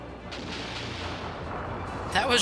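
Moonstone Cannon firing in the Skies of Arcadia Legends game, heavy booming blasts rolling over a continuous dense rumble, with a sharper crackling burst near the end.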